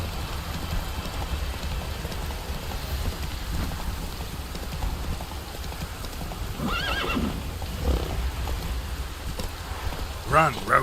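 Roach the horse gallops in The Witcher 3 with steady clip-clop hoofbeats over a low rumbling bed, a couple of whinnies breaking through near the end; no talk.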